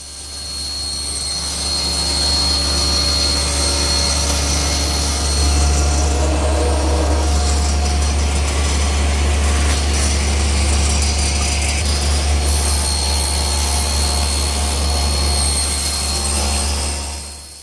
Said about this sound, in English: now I'll square one end and cross-cut it to length